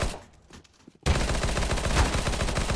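Rapid automatic gunfire in a shooter video game bursts in after a quiet second, then continues as a loud, dense, steady stream of closely spaced shots to the end.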